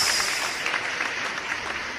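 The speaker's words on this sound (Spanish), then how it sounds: "Aplaude al Dios que vive." A church congregation claps in a dense, continuous patter of applause that fades slightly over a couple of seconds, heard fairly close with no clear talking over it.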